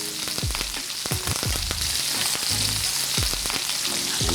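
A ribeye steak sizzles loudly in a pan while being basted with cold butter, rosemary and thyme, a constant close hiss mixed with repeated low thumps and scrapes of spooning.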